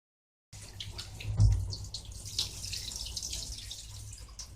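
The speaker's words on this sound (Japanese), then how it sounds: "もち米3カップを水で洗います。" Glutinous rice being washed by hand in water in a bowl for ohagi, a steady close swishing and sloshing with light splashes and drips, no voices.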